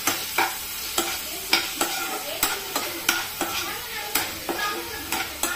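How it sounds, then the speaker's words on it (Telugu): Chicken fries in a pan with turmeric and salt under a steady sizzle, while a spoon scrapes and stirs in regular, close strokes about twice a second. "కొంచెం పసుపు, సాల్ట్ కొంచెం, ఎందుకంటే తొందరగా ఫ్రై అవ్వడం కోసం అలా వేసేసి కలిపేద్దాం."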